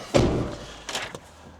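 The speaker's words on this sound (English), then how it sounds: "So as we open the door," The driver's door of a Mini R53 is handled, making a solid thud followed by a softer clunk and a faint click, close by and without speech.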